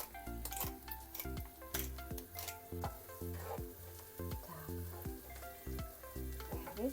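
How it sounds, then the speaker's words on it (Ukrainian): Chopped onion frying and sizzling in butter in a pan, salted and already turning golden, with a steady close crackle throughout and some recurring clinks. "у нас вже цибулька підтушилася, вона вже жовтенька"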